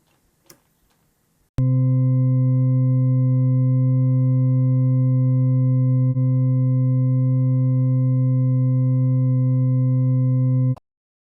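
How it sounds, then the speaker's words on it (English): A steady, pure sine wave test tone through a mixer preamp starts abruptly after a brief quiet moment, holds at constant loudness for about nine seconds, then stops. "Let's start with the test tone."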